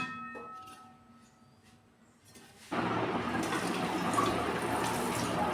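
Water pours into a pot being readied for steaming idli, starting as a faint trickle among small clinks, then turning abruptly into a loud, steady gushing that continues to the end.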